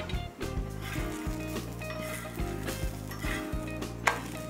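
Samai adai dosa, a kodo millet and lentil pancake, fries crisply on a hot pan with a steady, soft sizzle and occasional light clinks and scrapes, heard close with no talking.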